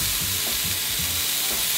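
Mushrooms sizzle in a frying pan alongside radish for a breakfast burrito, making a loud, steady hiss of frying close up with faint low stirring knocks underneath.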